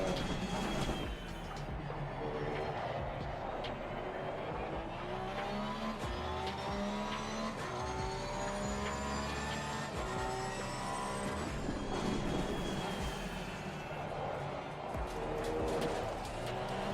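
Porsche race car in Assetto Corsa Competizione at Donington, engine note rising and falling steadily through gear changes with tire squeal and skidding, loud and continuous throughout.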